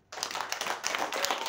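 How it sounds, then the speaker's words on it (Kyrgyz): An audience at a motivational seminar breaks into a burst of dense, loud applause that starts abruptly and carries on steadily, with many overlapping hand claps and no talking. "Давайте өзүңөргө катуу кол чабуулар"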